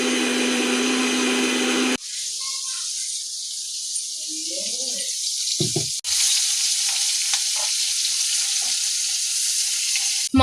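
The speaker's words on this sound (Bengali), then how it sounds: "মাসিমণি তো এখানে মশলা কষিয়ে নিচ্ছে, এরপরে চিংড়ি মাছগুলো দিয়ে দেবে তেল ছেড়ে আসলে মশলা থেকে" Spice paste sizzles loudly in hot oil as it is fried down for a prawn curry, with a steady, dense crackle that breaks off briefly twice and stirring sounds between.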